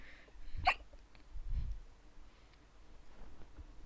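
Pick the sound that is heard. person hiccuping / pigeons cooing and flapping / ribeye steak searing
person hiccuping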